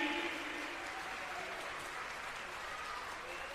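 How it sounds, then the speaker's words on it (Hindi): A large crowd at a Hindu religious discourse gathering claps loudly, a continuous dense roar of applause that stays steady throughout, with a voice faintly audible at the start. "जोरदार ताली बजाइए"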